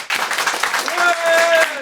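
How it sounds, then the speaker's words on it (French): A live comedy-show audience applauds to vote for a dark chocolate cookie, a dense burst of clapping that swells and holds for under two seconds, with a voice talking over it. "par applaudissement, qui est cookie et chocolat noir?"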